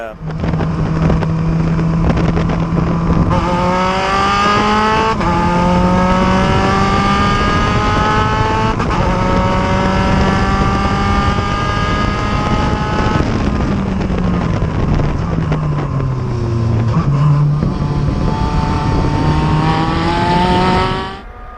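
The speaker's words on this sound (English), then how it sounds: "That's a lovely sounding car too." A vintage race car at Virginia International Raceway during an SVRA vintage racing event, its engine droning loud and steady with rising and shifting pitch, under continuous commentary.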